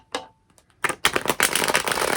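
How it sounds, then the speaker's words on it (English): A deck of tarot cards being shuffled by hand, with a few soft taps followed by a close, rapid burst of riffling and flicking cards, with no talking. "I'm going to give it one last shuffle"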